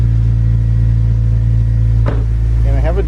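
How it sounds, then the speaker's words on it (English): Honda Civic Si idling steadily just after a cold start, a loud continuous low engine drone throughout, with a brief thump near the middle and a voice speaking toward the end. "A little cold start."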